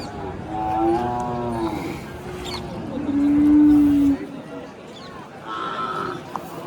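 A cow moos several times, long drawn-out lowing calls rising and falling, with a loud deep moo in the middle and people talking in the background.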